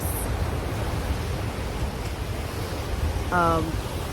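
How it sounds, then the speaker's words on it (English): Waves splash on a rocky beach along the Hamakua coast, a broad, continuous rushing wash with low rumble, steady throughout and briefly joined by a short tonal sound near the end. "it has the beautiful aesthetic of splashing waves on the rocks"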